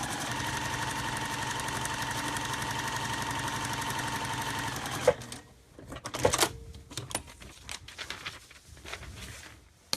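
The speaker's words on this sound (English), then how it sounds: "And I am stitching, and I don't start on the very edge of the line." A sewing machine runs steadily through a paper-piecing seam for about five seconds, stitching into the seam allowance, then stops, leaving scattered handling clicks and light rustling of paper and fabric.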